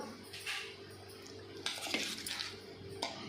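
Cooked gongura leaves are scraped from a pan into a bowl with a metal spoon, giving a few sharp clinks and scraping strokes against cookware, close and fairly quiet with no talking.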